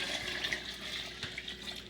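Hot water at about 130 degrees is poured into a pot for homemade cheese, a soft, steady trickle and splash heard faintly and continuously.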